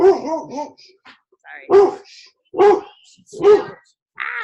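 A pet dog barks indoors during a home video call, four loud sharp barks spaced about a second apart and close to the microphone.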